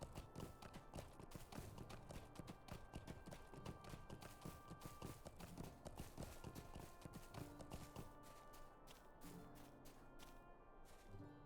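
Steady galloping clip-clop of horses in Lord of the Rings Online, close and continuous for the whole stretch, easing slightly toward the end, with no voices.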